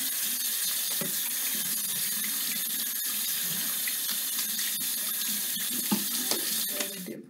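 Hands are washed under a running tap at a sink, a steady close splashing stream with small shifts as the hands move and a slight change in the flow near the end.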